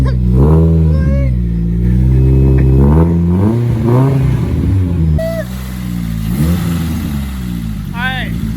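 A Nissan SR20 engine in a 240SX, running on old oil and old fuel at its first start, revs up and down in several rising and falling pulls, loud and close, with excited voices cheering over it.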